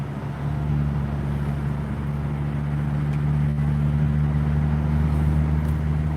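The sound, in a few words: Mitsubishi Rally Art car with turbo engine driving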